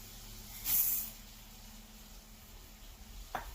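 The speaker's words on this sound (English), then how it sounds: "we're gonna add some of the rice, and then we're gonna stir it up for about a minute" Washed long-grain rice is tipped into a hot pot for arroz con gandules, making a brief hissing sizzle, then quieter stirring with a faint scrape at the end.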